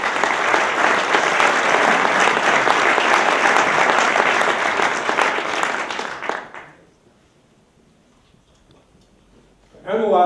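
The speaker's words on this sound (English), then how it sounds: "Let's give a round of applause to the Enquirer and Mirror." Audience applause at an awards ceremony for journalism honors, a dense burst of clapping that fills the room for about six seconds before dying away into near silence, followed by a voice starting at the very end.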